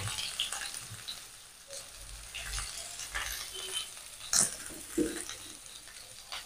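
Potatoes already fried red-brown in a pan, now joined by chopped ridge gourd, giving a soft steady sizzle with a few scraping stir clicks, fairly quiet and close, with no talking.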